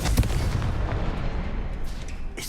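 A Confringo blasting spell explodes in Hogwarts Legacy, a dense, rumbling burst of booming impacts that fills the whole stretch, loud and close, with no talking.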